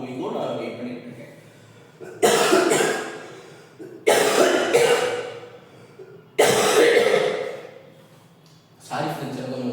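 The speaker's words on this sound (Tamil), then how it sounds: "இருமல் வந்துட்டே இருக்கு" Repeated bursts of harsh coughing from a person who is unwell, with several loud fits a couple of seconds apart, each trailing off into quieter breathing, close to the microphone.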